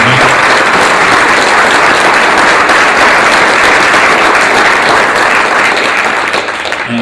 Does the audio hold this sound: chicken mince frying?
no